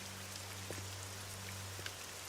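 Steady rain falls outside with a continuous soft hiss and scattered sharper drops, a low constant hum running beneath; no one speaks.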